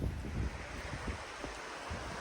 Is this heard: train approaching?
no